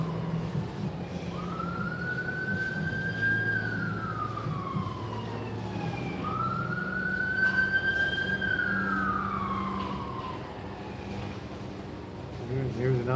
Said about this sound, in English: All day long, the ambulances.